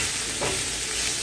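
Mushroom and pepper pasta sizzles steadily in a hot cast iron pan that is already off the heat, a continuous soft crackle with a brief stir partway through and no talking.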